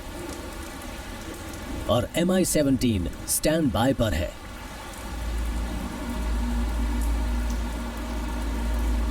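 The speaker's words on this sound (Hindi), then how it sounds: "यहाँ कई दिनों से बारिश हो रही है" Rain has been falling for days at a base where twin-engine MI-17 helicopters stand by. Someone speaks briefly at first, then a steady, even hiss of rain carries on alone.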